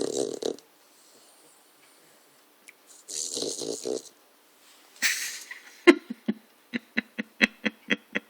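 A dog makes odd snorting, snoring-like noises, first in a few rough bursts, then a run of short rhythmic snorts, close and fairly quiet, with a person speaking briefly between them.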